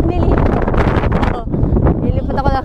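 Strong wind buffets the microphone outdoors in Japan, with loud broadband roar and gusts running throughout while a person talks over it.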